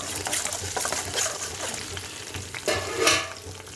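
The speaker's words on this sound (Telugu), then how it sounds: "శనగపప్పు కొంచెం ఎక్కువ వేస్తున్నాం" Chana dal fries in hot oil and is stirred with a utensil, giving a soft continuous sizzle broken by scraping stirs and small bursts of spattering, close and moderately loud.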